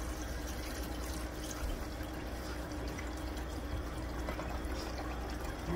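Steady stream of tap water running into a pan to soak it after cooking chicken in an air fryer, a constant soft hiss and trickle, fairly quiet and alone.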